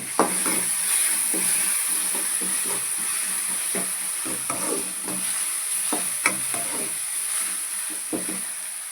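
Ginger garlic paste sautéing in a hot pan for a radish and prawn gravy, with a steady sizzle and hiss broken by repeated scraping stirs of a spoon throughout, close and continuous with no talking.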